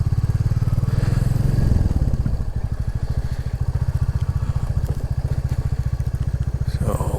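A Royal Enfield Classic 350 motorcycle riding along a lane, its single-cylinder engine thumping in a steady, close, loud rhythm throughout, with wind rumble and no voices.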